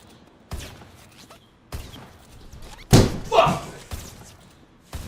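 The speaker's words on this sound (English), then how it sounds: "He slams the controller and then a subscription notification pops up." A game controller is slammed down indoors in several sharp, loud thumps spread across a few seconds, with the hardest double impact near the middle, over quiet room noise.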